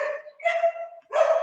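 A female dog barks at home in three close, loud, yelping bursts, with no voices over them.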